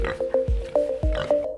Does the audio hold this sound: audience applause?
no